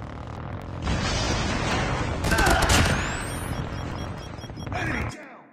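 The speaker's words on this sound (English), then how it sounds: "Hostile predator missile inbound." Predator missile explosion and gunfire in the mobile game Call of Duty Mobile: a loud sustained blast with crackling debris and rapid shots over about four seconds, with game voice callouts mixed in.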